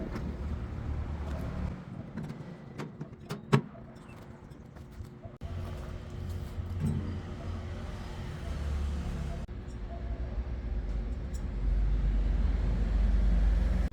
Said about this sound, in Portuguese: É um motorzinho de vidro elétrico de carro.